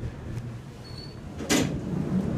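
A quiet mechanical hum gives way to a brief whoosh and thud as the door operator of a vintage Staley elevator slides the door, followed by a low steady rumble.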